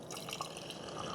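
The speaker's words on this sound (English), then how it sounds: "Now I can dispense some coffee." A Cuisinart DCC-3000 coffee maker dispensing brewed coffee into a cup gives a faint, steady trickle of liquid for just over a second, with light dripping and splashing.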